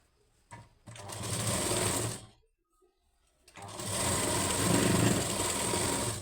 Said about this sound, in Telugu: ఇప్పుడు మెయిన్ సైడ్ వేసి స్టిచ్ చేసుకోవాలి